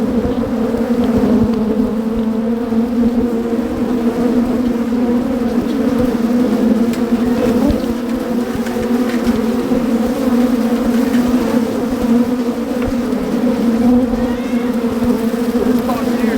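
Dense, steady drone of many honeybees at an open hive during an inspection, a continuous loud buzz that holds for the whole stretch with no pauses.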